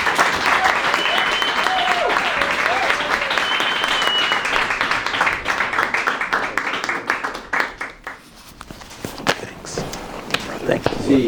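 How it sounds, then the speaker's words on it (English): A warm round of applause at a talk, dense clapping for several seconds with a few whistles, then thinning into scattered claps, footsteps and movement as a speaker comes up, with voices in the room. "So give him a warm round of applause, please."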